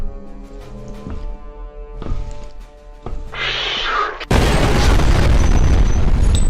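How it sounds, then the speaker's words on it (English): Grenade explosion in FEAR, a sudden loud blast that cuts in over a quieter stretch of game sounds and music with thumps, then holds as a sustained roaring rumble. "Let's get him with a grenade."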